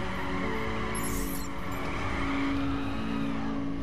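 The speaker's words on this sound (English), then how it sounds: "I'm drifting on the straights." A car drifts in The Crew video game, its engine roaring steadily with squealing tires, the sound continuous and loud throughout.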